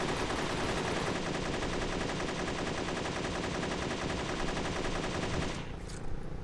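Dense automatic machine gun fire in the shooter game BGF - Unearthed rattles on without pause, loud and close, before cutting off abruptly near the end.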